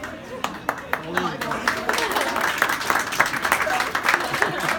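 An audience at a retirement event claps in a lively, uneven patter of many hands, with voices talking and calling out over the applause throughout.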